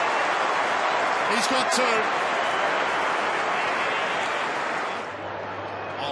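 A stadium crowd at an AFL match roars continuously after a goal, a broad, dense wash of cheering and applause that holds steady and eases slightly near the end, with a commentator speaking over it.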